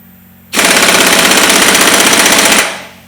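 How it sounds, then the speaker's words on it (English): A good air impact gun tightens the crankshaft pulley bolt on a 2012 Ford Fiesta 1.25 Zetec, sounding as one loud, close, rapid hammering rattle that lasts about two seconds before stopping. "I'll just whack that pulley bolt up, that crankshaft pulley bolt up, nice and tight with a good air gun"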